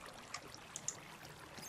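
Faint, steady trickle of flowing water in the Minecraft video game, a soft continuous wash with a few tiny splashy clicks, heard alone without talk.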